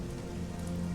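Rain falls in the strategy game Strategic Mind: Blitzkrieg during the invasion of Norway scenario, a faint, steady patter and hiss with a low hum underneath and no talking.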